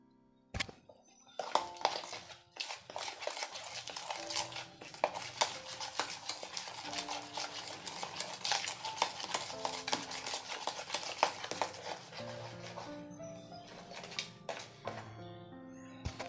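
Butter and sugar being creamed together by hand for whole-wheat atta cookies, a steady stream of scraping, stirring and clinking of a spoon against a bowl lasting most of the time, close and fairly quiet.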